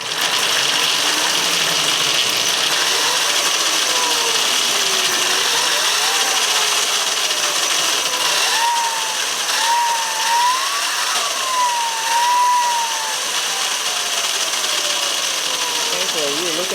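A WR250E motorcycle engine with reinforced front motor mounts runs on a stand, a loud steady buzzing drone with rising and falling pitch as it revs, holding continuously for the full stretch.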